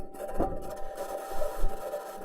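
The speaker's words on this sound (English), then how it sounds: "This is the sound of the Perseverance rover driving on its metal wheels." Perseverance rover rolling on metal wheels across Martian ground, heard as a low, muffled rumble with faint scraping and a few soft thumps over two seconds, steady and close with no voices.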